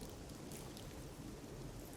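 Steady, dense rain falls during a thunderstorm, a continuous broadband hiss of drops on surfaces with no distinct rumble, heard alone at an even low level.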